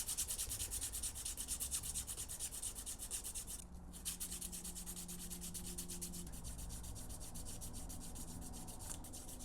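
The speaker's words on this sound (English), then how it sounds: "a little light sanding to try and get this all evened up" Rhythmic back-and-forth light hand sanding of a golf club ferrule, soft rasping strokes repeating steadily and close, with a brief pause partway through.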